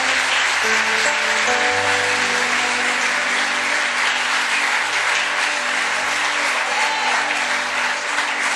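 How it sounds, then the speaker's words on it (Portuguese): A church congregation applauds the Lord in a steady, dense wash of clapping that carries on throughout, with a sustained organ or keyboard chord underneath. "Aplauda ao Senhor"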